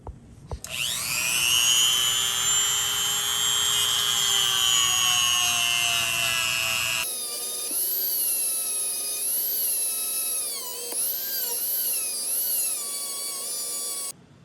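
A power tool grinds out a stuck part on a KX125 motorcycle engine, giving a loud, continuous high-pitched whine that shifts pitch as the tool loads up and eases off.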